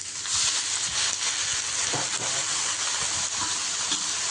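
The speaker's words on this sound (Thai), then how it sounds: "จากนั้นก็จะใส่ในส่วนของน้ำเปล่านะคะ เข้าไปนิดนึงค่ะ" Steady loud sizzling and hissing from a hot wok of Thai stir-fried long beans with red curry paste and meatballs after a little water is added, continuous steam hiss with faint stirring scrapes.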